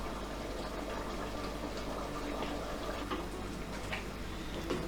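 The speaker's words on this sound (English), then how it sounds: "We add the tomato paste, but first we dilute it with some hot water, the same water from the chickpeas." Hot chickpea cooking water poured into tomato paste to dilute it, a continuous close gurgling, trickling pour with no talking.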